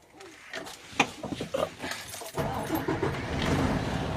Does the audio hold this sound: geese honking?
no